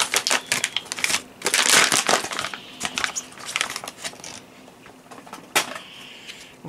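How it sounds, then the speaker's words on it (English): A gas mask's plastic bag is torn open by hand, giving close, sharp crinkling and tearing crackles in uneven bursts, loudest early on, then fading to lighter rustles. "I know you can rip the bag open without a knife"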